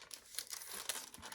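Halo tactile stickers being handled in their packaging give off soft, quick crinkles and rustles, faint and close, in a short irregular burst.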